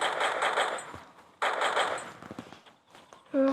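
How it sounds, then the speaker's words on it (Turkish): Gunfire in the mobile game Free Fire: two rapid automatic bursts of shots, dense and loud, followed by scattered lighter clicks and footsteps, with a brief tone at the end. "onu arkadan vuruyorum"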